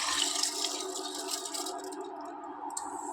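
Soaked seeraga samba rice with its soaking water is poured into a pot, giving a steady splashing, trickling wash of water and grains that runs the whole moment at moderate level with no talk.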